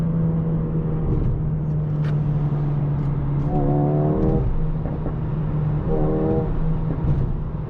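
A 2024 Mercedes CLA 35 AMG Coupe pulls hard in third gear from inside the cabin, a steady droning engine note under road noise with two short rising bursts of acceleration.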